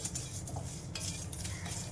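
Spices and poppy seeds for homemade misal masala are dry-roasted in a pan, a spoon scraping and clinking against the metal in quick, irregular strokes, faint and close.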